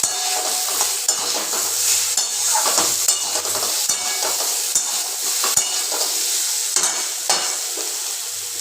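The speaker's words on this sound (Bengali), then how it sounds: "আমার কাঁচকলাটাও লাল লাল করে ভাজা হয়ে গেছে" Green plantain fries in a pan while being stirred, a steady close sizzle punctuated by regular scraping and tapping of a spatula against the pan, with no talking.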